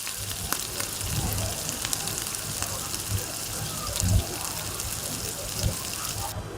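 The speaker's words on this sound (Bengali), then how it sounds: "সবগুলো বল দেওয়া হয়ে গেলে মিডিয়াম টু লো হিটে একটু সময় নিয়ে ভেজে নিতে হবে।" Potato cheese balls fry in oil over medium-low heat, giving a steady close sizzle with a few soft bumps and bubbling surges.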